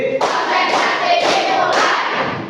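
A group of students in a classroom clap together in a loud, close burst of overlapping hand claps that keeps going for a couple of seconds.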